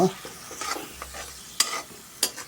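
Banana halwa sautéed in a pan, with scraping stirs and soft sizzling; two sharp spoon strikes stand out against a quiet, steady background.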